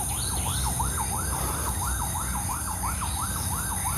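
A wailing ambulance siren rises and falls in a steady repeating cycle, fairly close and loud over a constant background hum.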